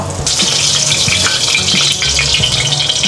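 Pork belly, kikiam and squid balls frying in a pan, a loud, constant close-up sizzle with some clatter of stirring.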